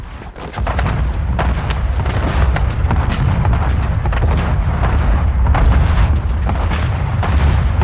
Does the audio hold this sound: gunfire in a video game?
yes